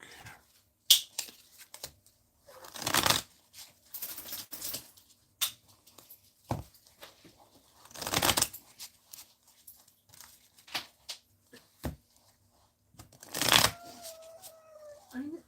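A deck of Strat-O-Matic baseball cards shuffled by hand during a 1986 replay game at a table, with several short riffling bursts separated by quiet gaps and small clicks, close and fairly soft.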